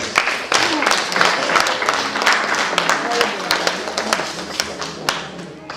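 Congregation in a church service applauding and acclaiming the Lord, a steady mass of clapping with crowd voices, fairly loud and continuous throughout.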